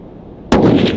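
A single loud, close rifle shot cracks out at the midpoint while a hunting rifle is zeroed on a downhill slope in Kyrgyzstan, with a sharp onset and a reverberant tail across the open mountain terrain.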